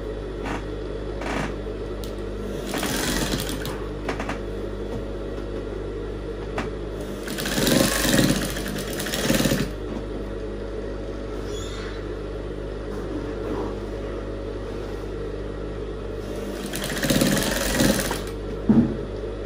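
A sewing machine stitches external back loops on a corset, a steady mechanical whir with several louder, faster bursts of stitching between quieter stretches, with no talking.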